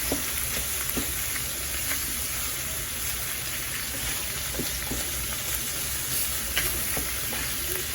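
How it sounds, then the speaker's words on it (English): Lamb mixture for shepherd's pie stirred in a hot pan, a steady close sizzle and frying hiss running throughout, with scattered soft scrapes and clicks of the spoon against the pan. "So I'm mixing this up, and this is going to cook down for a minute."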